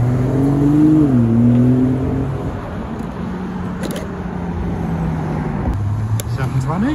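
An Aston Martin DB11 Volante drives past on a road in Alderley Edge, its engine note rising and falling as it goes by, with people chatting over the car sound.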